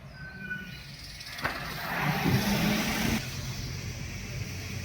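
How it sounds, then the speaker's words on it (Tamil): Road traffic in Shimla: a car engine swells past at mid distance, rising and fading over a few seconds, over a low background hum of other vehicles and faint distant horns. "மறுபடியும் இங்கே டிராஃபிக் ஸ்டார்ட் ஆச்சு."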